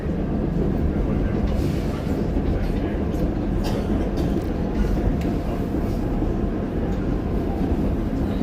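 A historic streetcar rolls steadily along its tracks, giving a continuous loud rumble with faint rail clicks and squeals close by, and a few indistinct voices sound underneath.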